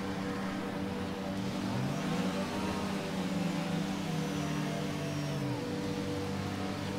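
An F1 car in the F1 22 video game idles along on its formation lap, its engine a steady, moderately quiet drone with wavering tonal whine. No one speaks over it.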